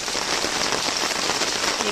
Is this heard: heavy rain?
yes